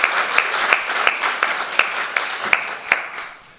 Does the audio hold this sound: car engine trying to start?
no